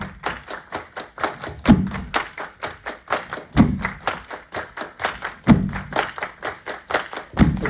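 Rhythmic body percussion, with heavy stomps about every two seconds and quick claps and taps filling the gaps, repeating steadily at close range with no talk over it.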